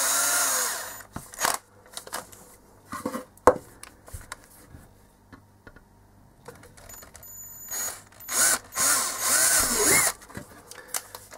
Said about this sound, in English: I use a 3 millimeter drill for it.